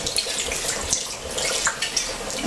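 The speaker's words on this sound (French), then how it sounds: "Maintenant je vais ajouter le vin." Red wine pours in a steady splashing stream into a pot of veal marengo, a continuous close liquid gurgle lasting a couple of seconds.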